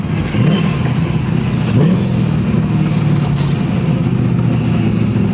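A 1977 Datsun 280Z with an LSX V8 swap drives along, its loud, steady engine drone filling the whole stretch, with brief rising revs near the start, up close and with no talking.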